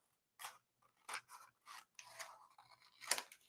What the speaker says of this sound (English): We're just going to trim that off.